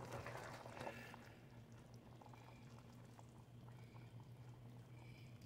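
Water pours steadily into a cooking pot of ginataang tilapia, a soft continuous liquid rush with light bubbling, fairly faint and unbroken, with no talk.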